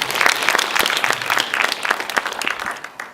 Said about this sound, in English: So give them all a round of applause.